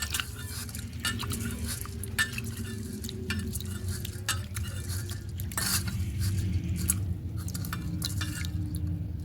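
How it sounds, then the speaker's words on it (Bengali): Fish being washed and squeezed by hand in water in a bowl, close sloshing and squelching with scattered clicks and knocks against the vessel, irregular and steady throughout. "জল দিয়ে ভালো করে চটকে চটকে ধুয়ে নেব।"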